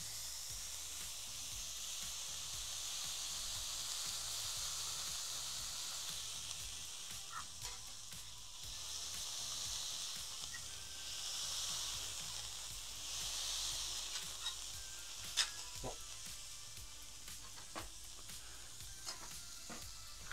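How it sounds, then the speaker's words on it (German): Burger patties fry on a hot plate, a steady soft sizzle and hiss with occasional faint scrapes and ticks, fairly quiet and continuous, no voices. "Kann es so vor sich hin braten."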